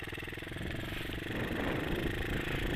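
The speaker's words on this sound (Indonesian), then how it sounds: "Suaranya berebet ala khas FU gitu." A C70 motorcycle fitted with a Suzuki Satria FU 150 engine and a racing exhaust rides past with a continuous, loud, raspy burble and rapid pulsing throughout, steady and close.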